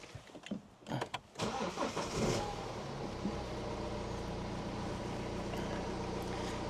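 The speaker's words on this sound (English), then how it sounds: "let's fire the car up" A car engine with a faulty brake vacuum sensor cranks with a few sputtering turns, catches, and settles into a steady idle hum.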